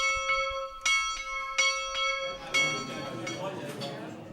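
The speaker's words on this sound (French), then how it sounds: "À Cerisy, tout fonctionne à la cloche. Celle-ci annonce le petit déjeuner." A bell at Cerisy rings out repeatedly in a steady rhythm to announce breakfast, its clear resonant strokes ringing on before fading into a wash of room noise and distant voices.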